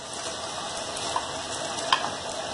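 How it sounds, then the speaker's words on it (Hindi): Mash dal lentils go into a pan of frying spiced masala with turmeric and chicken powder, giving a steady, close sizzle and crackle with a couple of faint clinks. "दाल डालेंगे"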